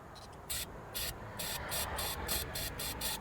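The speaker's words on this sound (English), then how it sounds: "So I'm gonna spray this starting fluid in this tube." Several short hissing bursts of starting fluid sprayed from a can into an intake tube of a Toyota Corolla that cranks but won't start, repeating in a steady rhythm over a constant low background rumble, each blast lasting about a quarter second.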